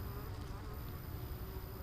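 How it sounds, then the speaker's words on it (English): Honey bees buzzing outside the hive as they return, some carrying pollen, a continuous close droning hum with no talking. "Bees are all pretty much returning to the hive."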